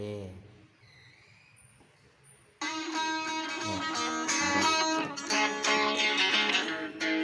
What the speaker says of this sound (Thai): มีเสียงมาจากตัวบลูทูธนะครับ